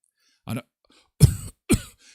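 Three sharp coughs, the first brief and the next two heavier and raspier, spaced apart with silence between.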